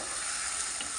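Eggplant pieces frying in a pan while being stirred, a steady loud sizzle and hiss that holds evenly throughout, with no talking.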